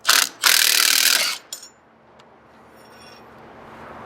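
Factory ice scratchers come off a Polaris Patriot Boost snowmobile using a T40 Torx bit and a 10mm Allen: a burst of ratcheting tool noise up close, a brief gap, a few light clicks, then quiet.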